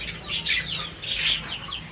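Young chicks cheep and cluck continuously close by, a busy flock of high chirps over a low background hum.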